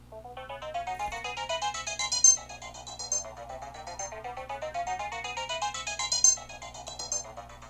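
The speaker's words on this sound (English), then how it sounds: "you will hear the wet signal here going through this combinator" A bright plucky synth arpeggio through a multi-band delay combinator in Propellerhead Record, cascading repeating notes with echoing tails over a low steady hum, fairly quiet and without any voice.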